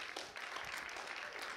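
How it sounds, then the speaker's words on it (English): An audience claps in a brief, fairly faint burst of applause, welcoming a speaker onto a stage at a deep-tech innovation event. "let's welcome on the stage with a loud round of applause, Dr. Anthony Yadamis"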